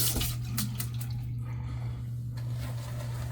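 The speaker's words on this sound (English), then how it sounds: "I am having to add so much water." Water trickles and splashes steadily into shaving soap being lathered, a close, continuous running-water sound with a low hum beneath it and no voices.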